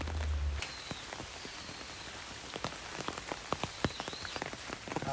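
Heavy rain pours onto a trail near a valley, a constant hiss of rainfall with scattered louder drips and taps landing close by, and no voices.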